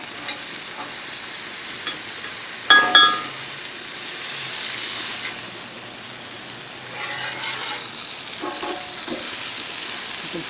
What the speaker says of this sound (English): You're going to let the cauliflower grill a little bit and start to soften up.